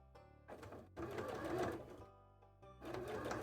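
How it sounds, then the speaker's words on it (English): Sewing machine reverse stitching on a cosplay tail, running in short close bursts of whirring separated by brief pauses, loud and mechanical with no voice over it. "This is backwards sewing."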